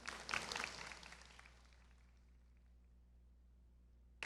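Audience applause closing a panel at MCM Comic Con Scotland, a short burst of clapping that fades quickly into quiet room tone.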